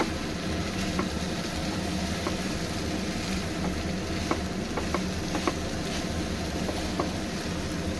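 Chicken bharta cooking in a pan, with spices and masala being sautéed: a continuous close sizzle and crackle of frying, with a few light clicks of stirring scattered through.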